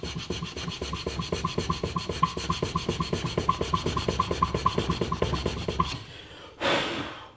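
A hand file working down the wooden stock of a Marlin Model 38 rifle, dozens of close, even rasping strokes in a steady back-and-forth rhythm that stop abruptly, then a brief rustle.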